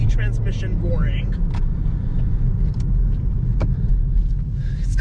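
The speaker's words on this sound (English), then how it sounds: "you can hear that CVT transmission roaring" A 2020 Nissan Rogue's CVT transmission roaring under acceleration, a loud, steady low drone heard from inside the cabin with little change in pitch throughout.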